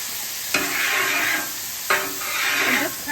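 Water splashed onto a hot Blackstone griddle while cooking stir-fried rice hisses and sizzles loudly, with two sharp onsets about a second and a half apart, each followed by sustained steaming bursts.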